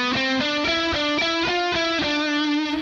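Distorted electric guitar plays a fast lick in a long-short-long phrasing, crisp picked notes stepping around a repeating pattern, loud and close with no talking.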